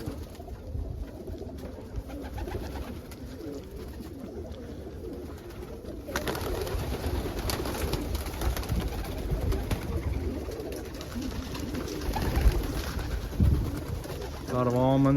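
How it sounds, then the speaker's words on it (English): A blue bar Indian Fantail cock pigeon coos outdoors on a warm day, with low, soft repeated coos over faint ambient background and occasional murmuring voices. "That's a nice blue bar Indian Fantail cockbird over there."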